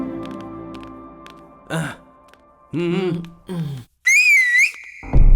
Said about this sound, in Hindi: सीटी मार के बुलाता